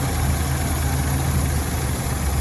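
A 409 V8 engine in a 1962 Chevrolet Impala SS with dual quad carburetors idles steadily with a deep, even rumble and constant vibration, close by, with no voices.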